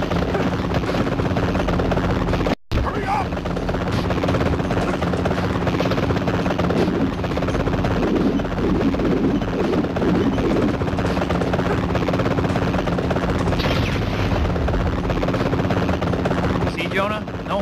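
Helicopter rotor drone from the PSP game Spider-Man 3, a steady loud whirring hum running throughout with a brief dropout early on, game voices and effects layered over it.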